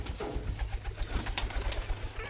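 A pigeon coos in soft repeated low pulses, close by, with faint background noise and no talk.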